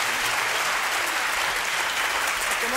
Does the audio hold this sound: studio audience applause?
yes